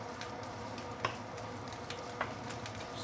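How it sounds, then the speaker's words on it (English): Ginger sautéing in sesame oil for sesame oil chicken, a soft steady sizzle close by with two brief utensil clicks. "let's saute the ginger until it is brown a little bit"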